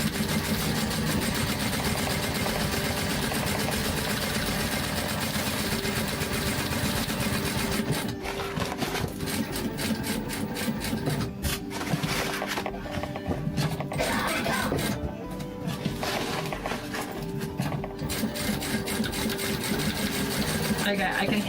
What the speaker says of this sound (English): I can hear my bobbin starting to rattle.